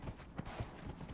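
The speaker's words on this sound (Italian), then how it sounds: "Corri, cavallo, corri!" A horse gallops in the video game Dragon Age: Inquisition, a quick run of soft hoof thuds over about a second, faint and alone.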